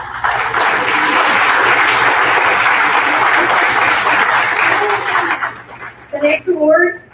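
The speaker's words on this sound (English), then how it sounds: "We'll give them a round of applause." Loud, sustained audience applause at a high school awards ceremony honoring a welding student's 6G certification, steady clapping for about five seconds before fading into scattered claps and a few voices.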